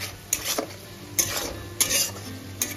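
Onions frying in a pot over a low gas flame with a soft sizzle, broken by four sharp metallic scrapes and clanks of a spoon stirring against the pot.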